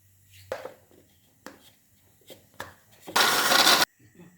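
Mixer grinder grinding toor dal with asafoetida into a thick paste, a brief loud whirring burst of under a second after scattered quiet handling knocks and clinks.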